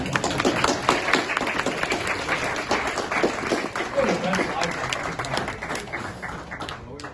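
An audience claps after a talk: dense, sustained applause that fades slightly toward the end, with voices mixed in.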